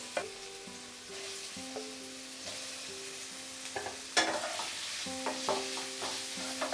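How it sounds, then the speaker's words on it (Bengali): Leftover potato pieces, hollowed out from whole potatoes, fry in hot oil with a constant close sizzle, broken by sharper clinks and scrapes of stirring, and no one speaks. "অর্থাৎ আলুটাকে হোল করার সময় যে এক্সট্রা আলুটা আমার বেরিয়ে গেছে সেটাকে আমি ফ্রাই করে নিচ্ছি।"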